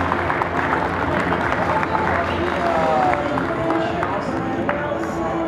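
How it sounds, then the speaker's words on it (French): An audience at a departmental Prim'Holstein dairy cattle show applauds the winning cows in a steady patter of clapping, moderately loud, with crowd murmur and a voice talking over it. "merci public d'applaudir très très fort et très très chaleureusement"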